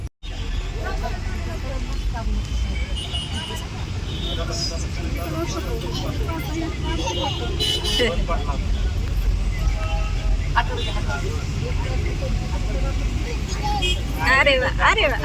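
Heavy road traffic rumbles steadily around a vehicle, with engine drone, passing cars and a few horn-like bursts, while people chat nearby throughout.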